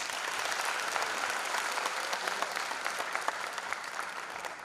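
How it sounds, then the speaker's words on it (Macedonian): Steady, loud applause from a concert audience fills the whole stretch, dense clapping without pause at an annual folk dance ensemble concert in Bitola. "ќе ве молам со еден силен аплауз да го поздравиме раководителот на оркестарот Славе Наумовски Чапче"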